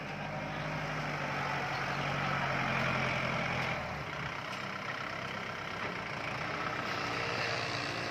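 A tractor engine drones loudly and steadily as it churns through mud while filling in a pond, the pitch shifting midway as it works under load, with no talk.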